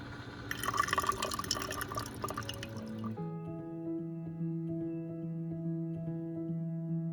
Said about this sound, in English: We'll drip off a little of this water here.